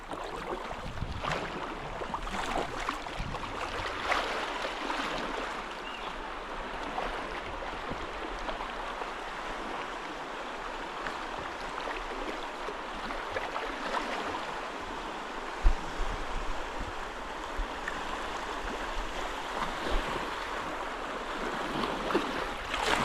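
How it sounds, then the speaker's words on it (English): The Huron River flowing, a steady soft wash of moving water with faint bird sounds in the background, no voices. "Sound of water and birds and nothing else."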